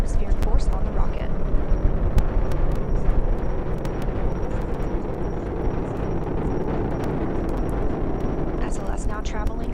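The NASA SLS rocket launching Artemis 1 near max Q at 8.8 million pounds of thrust, heard as a loud, continuous broadband roar that fills the whole stretch, with faint higher tones on top.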